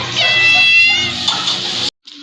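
A cat gives one long, loud, drawn-out meow up close outdoors in hot sun, then falls quiet for a moment before a faint sound follows.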